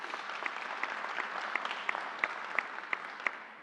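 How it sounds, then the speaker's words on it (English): Audience applause at a governor's announcement at Suffolk County Community College, a steady wash of clapping with sharper individual claps standing out, moderately distant and even throughout. "Let's give her a round of applause."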